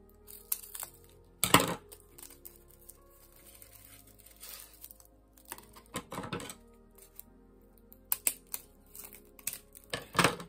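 Scissors snip through material while making a handmade cardboard postcard display stand, giving several short sharp cuts and crinkling handling noises at close range, spaced irregularly with quiet pauses between.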